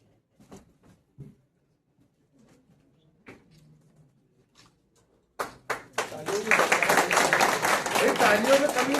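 An audience at an aviation certificate distribution ceremony at Jabalpur Airport bursts into dense, sustained applause after a few scattered claps and a near-silent stretch, with a voice speaking.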